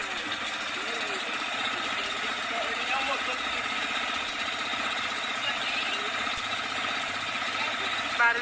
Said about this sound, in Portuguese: O papai já funcionou o motor e a Fabiane já começou a remar, a peneirar.